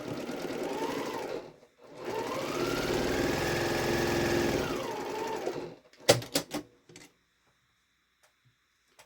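A sewing machine stitches quilt blocks together in one steady run of about four seconds, its motor whirring evenly at close range, then stops, followed by a few sharp handling clicks and quiet.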